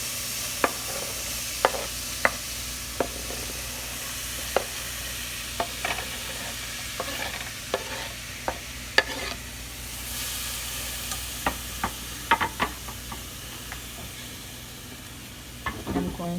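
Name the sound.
vegetables sizzling as they are added to hot oil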